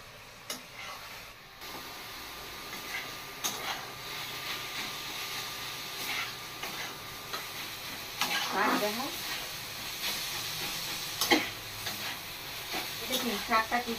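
Peepal leaf greens fry in a pan with turmeric, green chilli and salt, a steady soft sizzle broken by scraping stirs of a spatula over about fourteen seconds, with a few louder clatters near the end.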